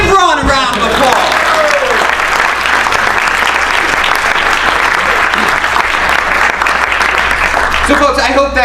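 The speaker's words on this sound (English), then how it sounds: "Give Ron a round of applause." Audience applause after a magic trick at a trading talk: sustained, dense clapping from a large crowd that fills several seconds at steady loudness, with brief voices at the start and end.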